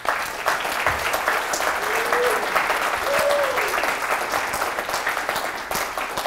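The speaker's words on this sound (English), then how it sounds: "I think that might be the loudest applause so far today." Steady, dense applause from a large audience fills the whole stretch, loud and continuous, with faint whoops or voices rising briefly above the clapping.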